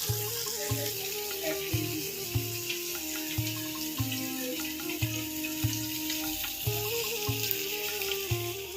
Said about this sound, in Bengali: আমি অফ ক্যামেরায় বাসনটা আজকে মেজে নিচ্ছি